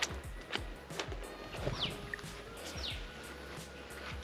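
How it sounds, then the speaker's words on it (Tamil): An Asian koel calls twice, faint and distant, near a Shiva temple with a holy pond at Timiri, over low outdoor rumble and scattered footstep-like thuds. "அந்த குயில் சவுண்டு கேளுங்களேன்"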